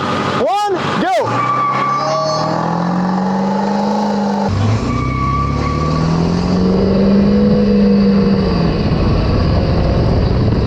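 Diesel pickup trucks, including a 7.3 Powerstroke, drag racing from a standing start, engines roaring loud and rising in pitch as they accelerate, with a voice heard at the start.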